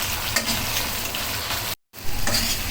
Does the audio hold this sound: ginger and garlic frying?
yes